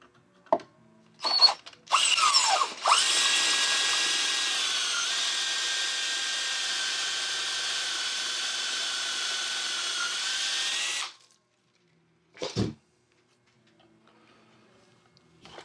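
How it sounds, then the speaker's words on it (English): A power drill cuts pocket holes in wood for a kitchen knife rack: a sustained high whine of about nine seconds after a couple of brief starts, then a short burst, loud and near. "I'm drilling some pocket holes to attach to what's going to be the front of the knife rack"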